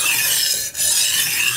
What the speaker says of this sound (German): wenn ich jetzt hier über das Messer gehe, über den Schleifstein schleife